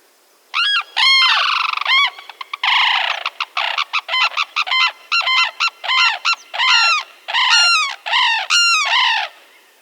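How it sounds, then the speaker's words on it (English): A Sarus crane pair trades loud, rapid trumpeting calls in a duet, dense overlapping honks in quick bursts for nearly ten seconds, close and alone with no voices. "let's look at one more call. One that the Saras crane is particularly known for."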